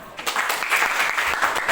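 Students in a junior high school classroom clap together in a short burst of applause, dense and steady for under two seconds with no talking over it.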